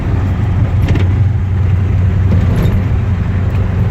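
A 1951 Ford F1 pickup truck engine idles steadily, just started and not yet warm, with a low, rumbling drone, continuous and fairly loud throughout, with no talking.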